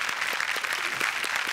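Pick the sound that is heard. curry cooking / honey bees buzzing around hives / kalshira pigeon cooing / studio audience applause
studio audience applause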